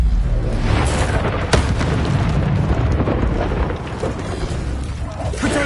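Confringo blasting spell from Hogwarts Legacy exploding in repeated heavy booms over a rumbling, noisy battle din, with a sharp crack partway through and continuous loud low-end blasts.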